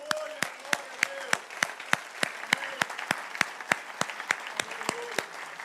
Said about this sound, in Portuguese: Será que nós podemos dar um aplauso ao nosso Deus?